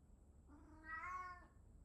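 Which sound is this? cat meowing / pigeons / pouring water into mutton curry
cat meowing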